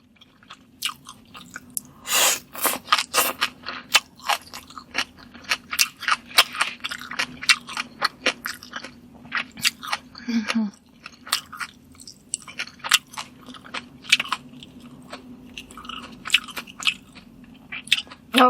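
Close crunchy chewing and biting of Cambodian beef sticks, a dense irregular run of crisp bites and mastication going on for many seconds with a steady low hum underneath and no talking.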